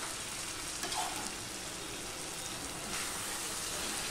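Boiled bottle gourd going into a hot frying pan with sugar-cooked spices, giving a steady, moderately loud broadband sizzle that swells briefly near the start and again toward the end, with no voices.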